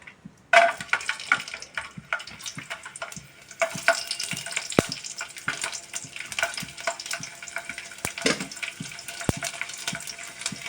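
Garlic cloves sputtering in about two tablespoons of hot oil in a pan, a close, busy crackle with sharp pops that starts abruptly and keeps up unevenly throughout.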